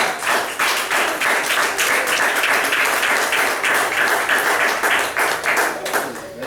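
A congregation at a church service gives sustained applause, many hands clapping in a dense, even rhythm with a faint voice underneath, steady throughout.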